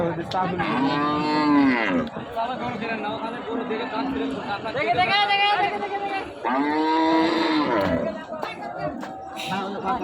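Cattle at a livestock market near the border give several long, loud moos in succession, with crowd chatter and voices around them.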